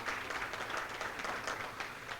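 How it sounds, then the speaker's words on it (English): An evening lecture audience at Ohio Dominican University claps for a guest speaker, a dense, even patter of many hands heard at low level and somewhat distant, sustained without a break. "let's give Linda a big round of applause for joining us this evening"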